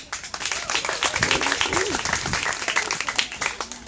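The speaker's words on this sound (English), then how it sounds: "Let's clap for her." An audience claps steadily for a few seconds, a dense patter of many hands with a few voices mixed in.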